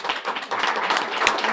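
An audience claps for the champions at a community beautification brunch, a steady mid-level round of applause with no speech over it.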